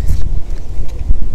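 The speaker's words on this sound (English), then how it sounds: "Oh, it is really windy." Strong outdoor wind buffets the microphone in loud, gusting low rumbles that rise and fall throughout the short stretch.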